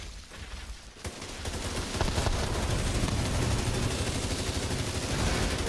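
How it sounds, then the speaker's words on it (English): Rapid video game gunfire builds from a few shots into a dense sustained barrage of automatic fire, close and loud for several seconds. "Shooting."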